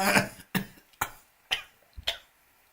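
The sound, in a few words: cough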